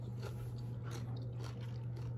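Close, crunchy bites and chewing of crispy air-fried food, soft repeated crunches over a steady low background hum.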